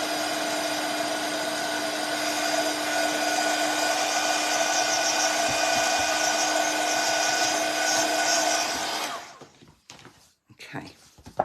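Heat tool or dryer blowing over ink on a Christmas paper craft, a steady loud whooshing hum held for about nine seconds before cutting off, followed by a few soft handling clicks and rustles.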